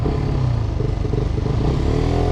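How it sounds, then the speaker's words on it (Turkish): An SRK 125S motorcycle engine runs loud and close with a steady, throbbing rev and rattling mechanical clatter throughout. "Motorun sesini dinleyin."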